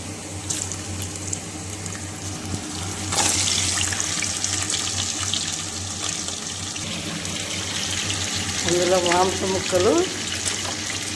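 Pieces of meat sizzling in a pan with onions fried deep red for a spicy talakaya curry, a steady close hiss with crackles throughout while a voice talks over it.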